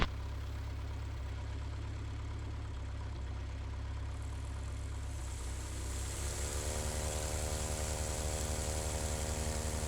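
The engine of a Super Patriot Cub light aircraft runs steadily before takeoff on a rainy day, a constant droning hum heard close up that climbs slightly in pitch partway through, with no talking.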